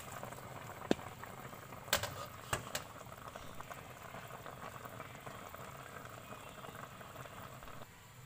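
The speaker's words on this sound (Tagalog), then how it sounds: "Pakuluan ko na lang yung mga 3 minutes" Nilagang pork pata with pechay bubbling in a pot, a steady close boil with soft popping bubbles and a few sharp clinks near the start.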